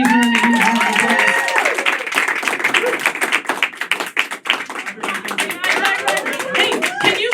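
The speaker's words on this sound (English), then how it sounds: "please give my friend Jason a huge round of applause." A crowd applauds with dense, steady clapping that gradually thins out, with some cheering and voices mixed in.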